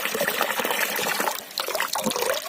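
Water from a supply pipe fed by a tower and borehole pump in a rural farmyard, rushing and splashing in a steady, close, noisy stream with a brief dip before it carries on.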